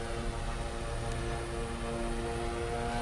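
Turboprop transport aircraft engine droning steadily in Microsoft Flight Simulator 2024, a constant loud propeller hum with a fixed whine, unbroken and alone.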